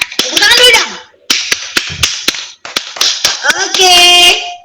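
Children in a classroom break into bursts of hand clapping, sharp rhythmic claps in several clusters, with kids' voices chattering between and over them.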